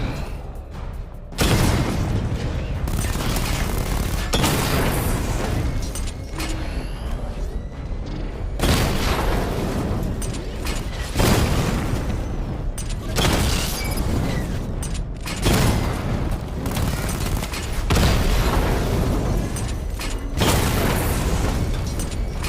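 A Batmobile missile barrage in Batman Arkham Knight detonates in heavy explosions that arrive as loud broadband bursts every few seconds, each with a booming, mechanical rumble trailing into the next volley.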